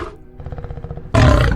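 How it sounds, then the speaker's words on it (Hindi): A cartoon lion growls in a low, pulsing rumble, then bursts into a loud, close, full-throated roar that holds to the end. "जंगल के किसी कोने से शेर की दहाड़ गूंजती"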